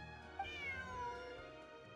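A cat meows in a video game, a drawn-out, wavering mewl with a brief sharp onset, sounding close and clear over a soft steady background hum.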